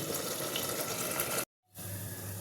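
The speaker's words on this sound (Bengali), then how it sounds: "এবার আমি এর মধ্যে জল দিয়ে দেবো এক বাটি জল দিয়ে দিলাম" A bowl of water goes into fried, deliberately charred masala of ginger, garlic and onion for a rohu fish curry, giving a steady pour-like rush with a sudden brief silence and a fainter hiss after.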